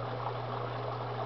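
An aquaponics pump sends water into the grow beds, a steady gurgling trickle of flowing water over a constant low electrical hum, even and continuous at low volume.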